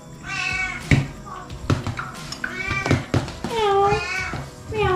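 A pet cat meows several times up close, with drawn-out, rising and falling cries spread across a few seconds amid light indoor noise.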